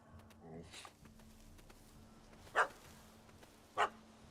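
Two sharp dog barks ring out a second apart in The Witcher 3 game, punchy and fairly close, after a softer whimpering yip near the start, with quiet game ambience between.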